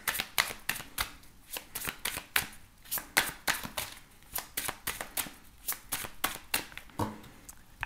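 Tarot Grand Luxe cards are shuffled by hand in quick rhythmic bursts of riffling and slapping, close and clear, repeating steadily with brief gaps between passes; a faint voice may be present.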